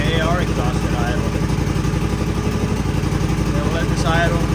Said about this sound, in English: Louder with the AR exhaust at idle.